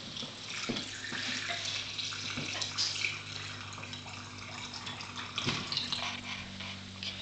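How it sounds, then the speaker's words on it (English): Brine pours into a fermenting jar packed with vegetables and weighted with rocks, a steady splashing, gurgling stream that runs close and fairly loud for several seconds without talk. "and then the brine goes in."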